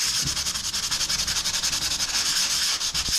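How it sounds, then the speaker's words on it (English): Steady, rhythmic sanding of a repaired fiberglass boat hull, a close raspy scrubbing with regular strokes throughout and no talk. "Yep, that's sanding nice."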